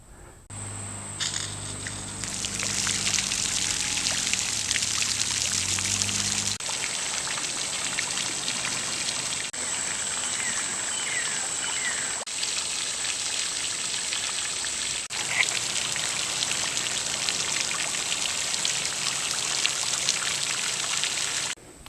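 Steady splashing and trickling from a hose onto a pond surface, a continuous rain-like patter of water striking water, loud and unbroken throughout.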